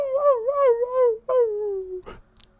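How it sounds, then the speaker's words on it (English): A dog howls in long wavering tones, breaks off briefly, then gives a falling whimpering wail before a short scuffing noise; close and clear with no speech. "I heard my dog in there somewhere."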